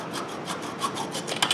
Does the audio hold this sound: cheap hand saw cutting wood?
yes